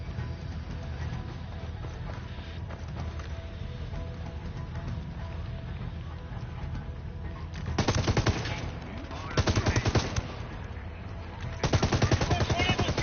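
Bursts of machine-gun fire from a war game crackle in short rattling volleys over a steady background of battle noise, with a pause between each burst.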